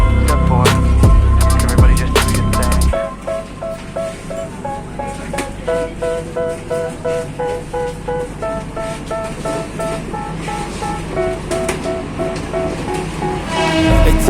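A train on the Stabat–Medan line rushes along at maximum speed, a loud steady roar with rhythmic clacking of wheels on rails throughout.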